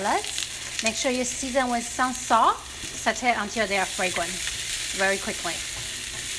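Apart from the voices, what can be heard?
sauteing garlic, ginger and shallots aromatics in a pan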